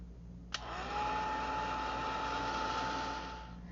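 A hair dryer drying a freshly painted art journal page gives a steady, close whooshing blow that starts with a click, holds for a few seconds, and then fades as it is switched off.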